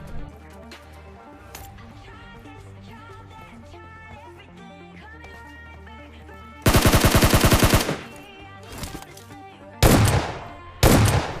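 Automatic gunfire in the mobile battle-royale game PUBG Mobile: loud, rapid bursts starting partway through, with further short volleys after brief pauses, over steady in-game music and ambience.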